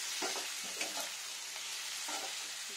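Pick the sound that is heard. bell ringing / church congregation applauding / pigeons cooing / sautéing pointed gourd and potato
sautéing pointed gourd and potato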